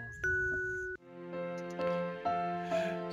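Two-tone ding-dong doorbell chime in My Time at Portia video game, ringing clearly and repeating several times in a steady sequence with no talk over it.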